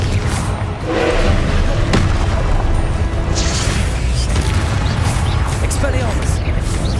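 Booming blast of the Confringo spell in Hogwarts Legacy, a loud thudding explosion amid continuous spell-casting combat noise, with heavy low rumble and crashing debris, while a voice shouts over the fight.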